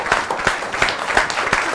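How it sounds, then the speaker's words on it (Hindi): At a Holi poetry event on a stage, an audience claps in a steady rhythm of clear, regular beats, moderately loud and close. "मैं चाहता हूं कि इनके सम्मान के लिए एक बार जोरदार खड़े होकर एक बार तालियां बजाइए इनके सम्मान के लिए"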